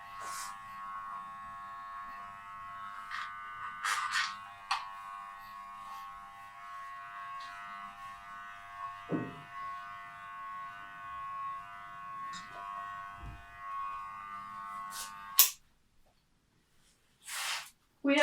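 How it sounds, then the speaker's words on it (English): Electric hair clippers buzz steadily through a child's haircut at home, a continuous mid-pitched hum with brief rustles and clicks, stopping abruptly near the end. "We have now cut the entire head with the clippers only."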